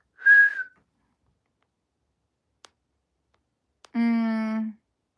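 A single short whistled note, then near silence broken by a couple of faint clicks, and finally a brief hummed or voiced tone.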